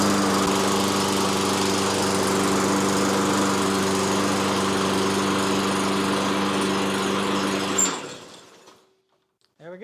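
A Toro lawn mower, just back from a carburetor clean-out, runs loud and steady for several seconds with a constant droning hum, then cuts off abruptly into near silence.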